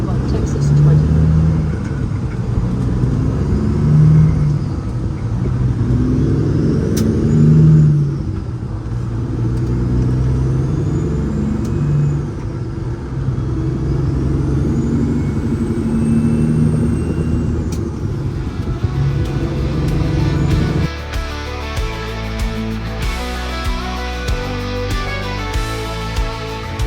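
A car cruises down a Texas highway with a constant road and engine rumble. Talk runs over it, and music comes in near the end.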